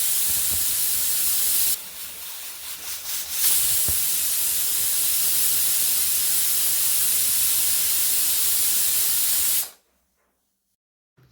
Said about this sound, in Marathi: कुकर बंद करून मग आपल्याला त्याच्या 2 शिट्ट्या करून घ्यायच्या आहेत